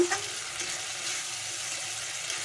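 Ginger-garlic masala for Bengali-style bhindi do pyaza fries in a pan, giving a steady, fairly quiet hiss and sizzle that begins with a brief stir and holds evenly.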